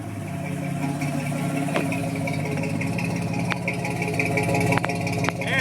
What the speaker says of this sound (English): It's amazing how quiet that engine is now that the exhaust is only dumping out the back.